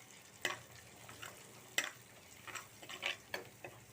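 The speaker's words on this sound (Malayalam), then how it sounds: "നന്നായിട്ട് ഇളക്കി കൊടുക്കാം." A spoon scrapes and taps against a pan while coriander powder is stirred into tomatoes for a fish curry, giving faint, irregular clicks over a soft sizzle.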